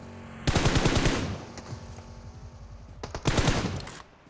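Two loud bursts of automatic machine gun fire from PUBG Mobile, separated by a lull of faint, rattling ticks, each burst a dense run of rapid shots lasting under a second.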